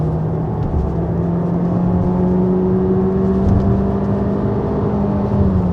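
An MG HS 2020 with a 1500 cc turbocharged engine accelerating hard on kickdown, heard from inside the cabin as a steady rising engine whir and drone with climbing tones, loud and continuous without talk.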